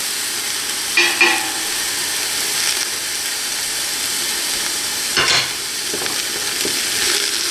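Onions cooking in a pot for black bean soup with a ham bone give a faint, steady sizzle, with a few soft scrapes and clinks of stirring near the start and again midway.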